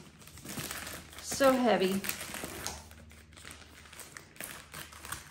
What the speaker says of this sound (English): You may hear some rustling.